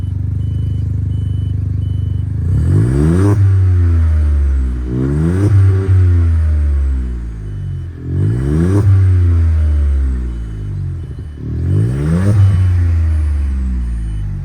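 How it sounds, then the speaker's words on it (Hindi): A stage 2 tuned Volkswagen Polo's exhaust is revved while stationary, giving four loud, close blips that each rise sharply and fall back to a steady idle between them. "आपको इसका एग्जॉस्ट नोट एक बार मैं सुना देता हूँ।"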